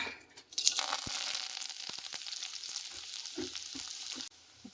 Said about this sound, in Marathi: आता टाकूया कांदा आणि कढीपत्ता